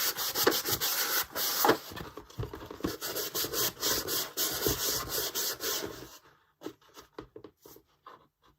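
Steady, dense rubbing of white Rust-Oleum furniture wax onto a painted Halloween craft piece, a continuous rasping scrub for about six seconds, then lighter intermittent strokes, close and alone.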